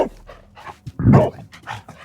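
A dog in a Sherlock Holmes video game pants and snuffles in quick bursts, close and fairly loud, with a brief whimpering edge midway.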